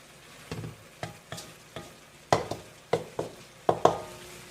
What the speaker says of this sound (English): we're going to let this one simmer for 10 minutes